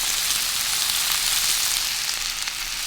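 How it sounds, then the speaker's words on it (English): Onions hit a hot pan and sizzle loudly and steadily, a dense close frying hiss that holds throughout without talk. "now I'm going to throw my onions in."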